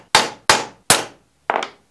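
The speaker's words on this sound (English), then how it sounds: "I'm just doing some preparation work by punching the hole where the drill bit is going to go through the steel." A hammer strikes a punch on steel four times to mark a drilling spot, each blow a sharp, ringing metallic clank, three evenly spaced and one after a short pause, close and loud.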